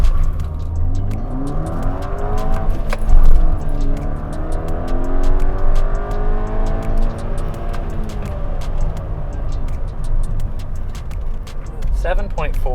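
A VW MK6 GTI fitted with an ARM Motorsports turbo outlet pipe accelerates hard from inside the cabin, engine rising through gears with rising and falling whine sweeps, loud and steady, with a short pause between shifts and no talk over it.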